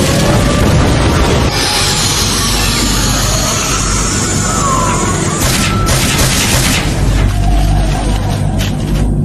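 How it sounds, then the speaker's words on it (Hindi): Anime battle scene with fire-style flame bomb jutsu explosions: loud, dense roaring blasts and crashing booms fill the whole stretch, with rushing whooshes and layered impacts continuing throughout. "Fire style flame bombs!"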